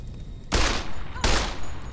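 Two sharp gunshot bursts in Fallout New Vegas, each a loud close crack with a brief decaying tail, spaced under a second apart against a quiet background.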